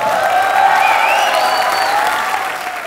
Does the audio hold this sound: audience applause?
yes